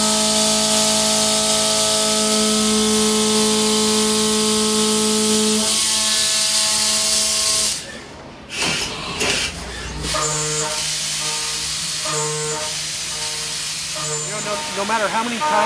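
A Haas DM-1 CNC mill cutting dry gives off a steady high tonal spindle whine, then a tool change brings sharp bursts of hissing air and clatter before a changed whine resumes, loud and close throughout.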